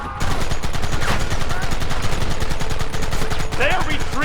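Rapid continuous gunfire fills a Red Dead Redemption shootout, dense overlapping shots loud and close, with shouting voices mixed in near the end.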